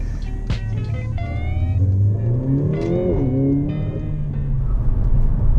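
A Ferrari F12 drives past with a rising, revving engine note that swells around the middle and stays loud against steady road rumble, with no talking over it.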